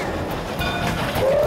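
A steam train rolls along the tracks with a steady rumbling clatter, close and continuous, and a brief whistle-like tone rises near the end.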